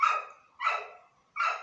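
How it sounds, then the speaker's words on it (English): A dog barks three times in an evenly spaced sequence, each bark sharp and fairly close, with silence between and no talk over it. "sorry for that dog, it's making a lot of noise."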